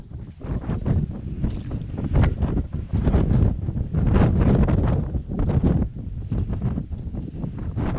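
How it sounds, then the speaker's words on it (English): Strong, gusty wind buffets the microphone on a misty Scottish mountain in summer. Loud rushing surges rise and fall in uneven bursts, and no voice is heard. "it's a wee bit blustery as we said"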